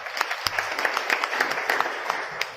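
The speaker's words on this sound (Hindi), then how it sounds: "जोरदार तालियां" Audience clapping at a motivational talk, a modest scattering of distinct hand claps at an uneven rhythm, fairly close and short-lived.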